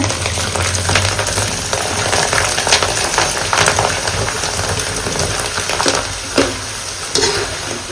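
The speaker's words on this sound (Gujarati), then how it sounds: "આ તો તેલ ઉડે" Oil spatters and sizzles loudly as homemade Gujarati shevla fry in a village kitchen, a dense continuous crackle with scattered sharper pops throughout.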